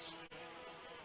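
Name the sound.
bee buzzing in a greenhouse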